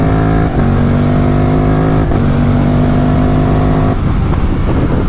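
A flashed Ducati twin-cylinder motorcycle is ridden through twisty roads, its loud, close engine droning and rising in pitch, with brief dips at gear shifts.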